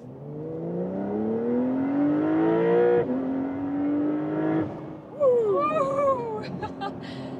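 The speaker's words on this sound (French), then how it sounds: "Sur l'autoroute, oui, une belle accélération pour le modèle à propulsion arrière" A rear-wheel-drive Porsche 911 Carrera S in sport mode accelerates hard on a motorway from about 40 to 130 km/h, its engine climbing in pitch through two gear changes before easing off, and a high whine near the end.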